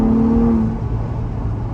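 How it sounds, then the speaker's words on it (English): A 2023 Ford Bronco Raptor cruising at speed, with a loud, steady rush of wind and road noise inside the cabin over a low engine hum that briefly carries a tone before settling. "at higher speeds, you still hear quite a bit of wind noise"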